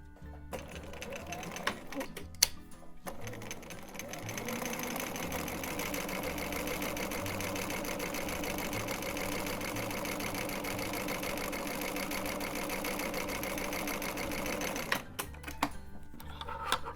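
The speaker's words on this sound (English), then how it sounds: "Let's try the double overlock." An overlock serger runs a double overlock stitch on knit fabric, a steady rapid whirring hum held for about eleven seconds, preceded and followed by brief handling clicks and light taps.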